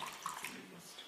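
Water poured into paint during an abstract art demonstration, a soft steady trickle and splash heard close up over a quiet room.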